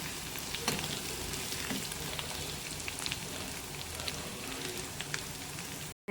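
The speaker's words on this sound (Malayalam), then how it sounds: "നമ്മൾ എണ്ണയിൽ ഇഞ്ചി വെളുത്തുള്ളി എല്ലാം ഇട്ടിട്ടുണ്ട്" Ginger and garlic fry in oil for mango pickle, producing a dense, even crackling sizzle that holds steady and close throughout, then cuts off abruptly at the end.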